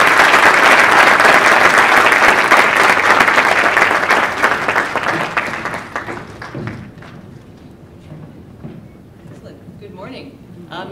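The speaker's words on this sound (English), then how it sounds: "A round of applause for Alicia Phillips-Mandeville." Conference audience applauding a speaker at a Mandela Washington Fellowship continental event, a dense, loud wave of clapping from a large crowd that fades gradually over about ten seconds.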